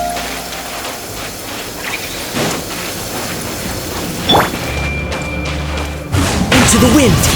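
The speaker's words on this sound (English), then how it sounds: "I like the rain." Rain falling in the video game Genshin Impact, a steady wash of drops over the whole stretch, with a few dull thumps that may be thunder, and a louder burst near the end.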